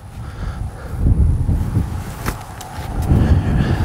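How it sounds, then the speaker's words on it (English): Gusty wind blowing outdoors, buffeting the microphone with a low rumbling roar that swells and eases over a few seconds, a couple of brief sharp knocks, no talk. "It's just too windy and stuff."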